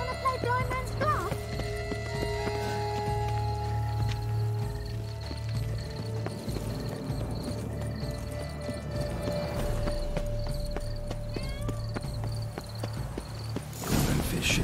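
Horse hooves clip-clop at a steady trot in The Witcher 3, running through the whole stretch under speech and game music, with a brief snort or whinny near the start.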